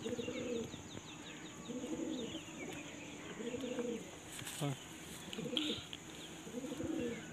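Lalsira and Madrashi breed pigeons coo in a repeated pattern of five or so deep, rolling phrases, close and clear, with a brief sharp knock in the middle and light chirping mixed in.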